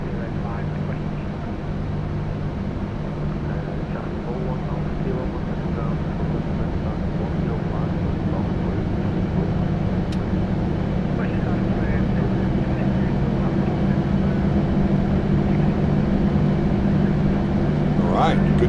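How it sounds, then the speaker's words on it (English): Jet engines spooling up on a PMDG 737-800 during a simulated engine start in Microsoft Flight Simulator 2024, a steady continuous roar with low hum running the whole time, with no talk over it. "Good start on 2 engines."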